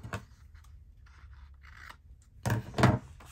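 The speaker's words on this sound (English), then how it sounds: "I need to snip a bit off" Scissors snip a bit off a piece of paper while making craft tags, a few quiet crisp cuts at first and then two louder, sharper snips close by near the end.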